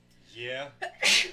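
A single sharp sneeze bursts out near the mic during a tabletop game session, preceded by a short spoken word and a quick intake of breath.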